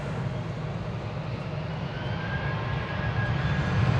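A Qatar Airways Boeing 777 jet roars at Dallas-Fort Worth Airport, a broad steady engine rumble that holds for the whole stretch and swells slightly louder toward the end, with no voices.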